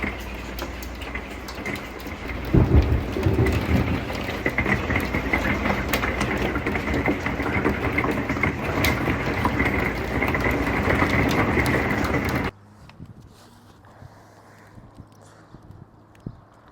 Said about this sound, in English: we just absolutely got pounded by a hailstorm.